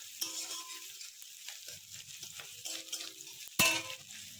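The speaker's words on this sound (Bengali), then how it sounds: "এই যে এখানে পেঁয়াজটা তুলে দিয়েছি কড়াতে।" Chopped onion sizzles in hot oil in a kadai, a steady soft frying hiss throughout with faint clinks of utensils and one sharp loud knock near the end.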